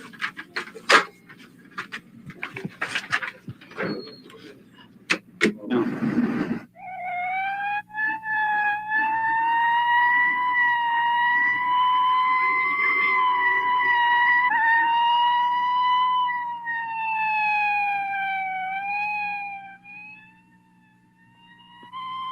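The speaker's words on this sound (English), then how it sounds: "the urgent sound of an emergency vehicle is just a noise we hear in the distance" An emergency vehicle siren in a city street wails in a long, loud, wavering tone that sweeps up and down for about fifteen seconds and then fades, following scattered clicks, radio chatter and bumps.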